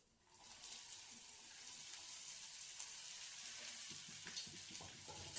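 Chopped kartule (spiny gourd) drops into hot oil with reddened garlic and starts sizzling, a steady broad crackle that swells after a moment and carries on with light stirring clatter near the end.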